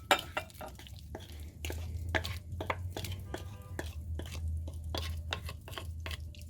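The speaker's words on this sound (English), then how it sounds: "Now you just want to stir until it's all incorporated." A spoon scrapes and clacks around a bowl, stirring mashed bananas into butter and sugar, with a steady run of close, irregular clinks and swishes.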